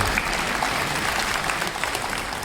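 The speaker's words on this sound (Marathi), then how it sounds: "त्यामुळे टाळ्या वाजवा" Audience applause at a state-level education foundation awards ceremony in Pune, a steady, dense clapping that fills the whole moment without a break.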